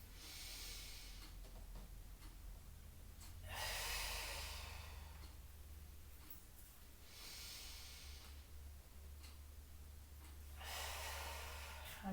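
Slow, deliberate breaths during a Pilates mat exercise, each long airy exhale rushing out in a soft hiss and spaced by quieter inhales, three main breath cycles heard up close with no talking.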